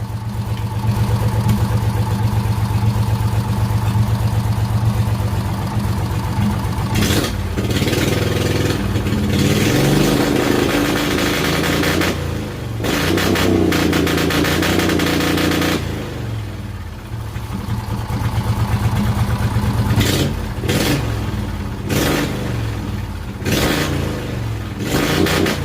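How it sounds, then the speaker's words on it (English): Race mower with an Intek V-Twin engine revving hard and bouncing off the rev limiter, with stuttering cut-outs and drops back toward idle, loud and close throughout. "I want to show you the tack as it works when I hit the rev limiter"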